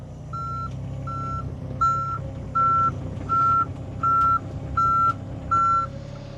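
Truck reversing beeps repeat in a steady, evenly spaced rhythm, about eight tones in all, over a low engine rumble.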